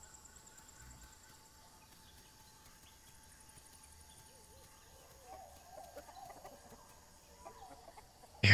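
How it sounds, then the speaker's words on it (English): Chicken clucking in the survival game The Isle: a few soft, faint clucks out in the open, far off and low, with quiet ambient noise behind and a sharp loud burst at the very end. "I hear a chicken. Where is it?"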